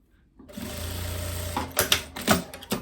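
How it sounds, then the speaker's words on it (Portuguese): Sewing machine stitching the collar on a tailoring-fabric vest, a steady close motor whir that starts abruptly and runs for about a second, then gives way to sharper clicks and fabric handling. "vira a pontinha da gola aqui pra você descer pra cá, ó. Ó. E costura."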